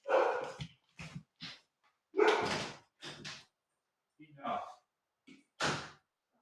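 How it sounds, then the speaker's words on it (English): Dogs bark indoors in several sharp, separate bursts with short pauses between them, moderately close and clear, with no one talking over them. "My dogs are barking at something."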